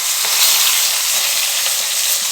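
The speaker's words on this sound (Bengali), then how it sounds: "একে একে করে কড়াইতে এদিকে মাছগুলো ভাজতে দিয়ে" Fish frying in hot oil in a wok, a steady loud sizzle and crackle that holds throughout without pause.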